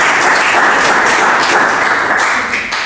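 Applause from a conference audience at the end of a talk on mycelium and biomimicry, a dense patter of clapping held steady for a few seconds before easing slightly.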